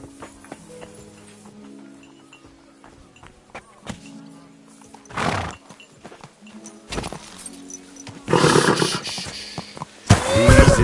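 Horse hooves in the medieval game Kingdom Come Deliverance 2 clop steadily beneath soft music, then several loud, rough bursts like snorting or neighing erupt near the end.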